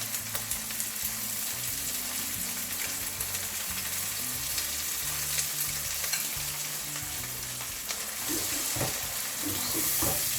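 Chopped tomatoes frying in a pan for a shakshuka breakfast with sausages, stirred continuously so a loud close sizzle runs under repeated scraping and clattering strokes of the utensil, with no voices.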